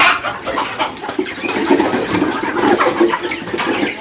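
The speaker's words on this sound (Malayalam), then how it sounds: "ദേ നോക്കി നാടൻ കോഴികൾ" Native country hens in a coop on a small farm, clucking and murmuring in a busy, overlapping chorus, close by and fairly loud, with no talk over them.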